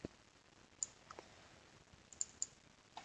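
A computer mouse clicks softly and close by in a quiet room: a lone click, then a quick pair of clicks forming a double click, and one more faint click at the end.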